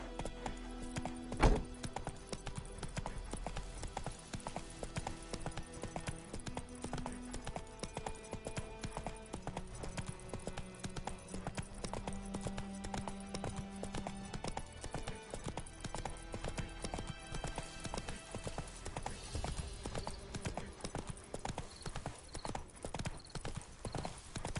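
Roach the horse galloping in The Witcher 3, quick rhythmic hoofbeats clattering continuously and evenly over a long stretch, fairly quiet with game music beneath.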